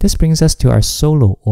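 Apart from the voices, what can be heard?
No everyday noises stand out.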